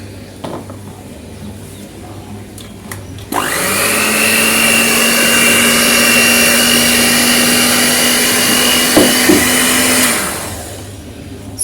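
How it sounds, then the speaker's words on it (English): An electric whisk running on low speed as it mixes sugar for a cake, a steady loud motor whine that starts abruptly, holds for several seconds, then winds down, close up and without talking. "I'll start on the slow whisk first before continuing upwards"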